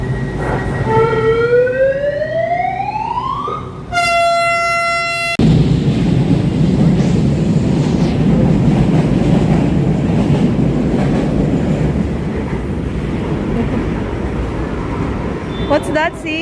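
A Manila LRT train pulls into a crowded station platform with a rising electric whine, a steady rumble and a brief loud tonal signal, while people talk nearby over the platform hubbub.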